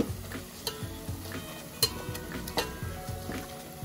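Mutton frying in a masala of turmeric and red chili powder over a medium flame, a close sizzle with rhythmic scraping stirs of a spoon against the pan and occasional clinks, with no voices.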